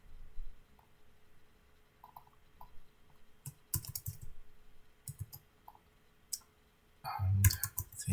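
Typing on a computer keyboard in short bursts of clicking keystrokes, close and clear against a quiet background, with pauses between runs and a denser flurry near the end.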